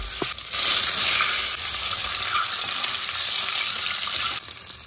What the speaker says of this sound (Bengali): এবার চিকেনগুলো না আমি ধুয়েই রাখি, তবু আরেকবার ভালো করে ধুয়ে নিই 2-3 বার